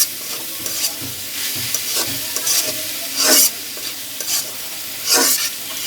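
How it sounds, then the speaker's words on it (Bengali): Minced meat stirred and fried in a pan, a steady close sizzle with scraping strokes of a spoon and several louder hissing bursts as the mince is turned. "এখন মাংসর কিমাটা ভালো করে আমি রান্না করে নিব।"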